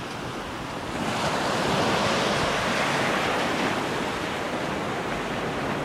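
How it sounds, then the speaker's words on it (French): Ocean surf rolls onto the shore near Cap Marianne, a dense, steady roar of breaking waves mixed with wind buffeting the microphone, swelling after the first second and staying loud throughout. "je me rapproche de l'océan."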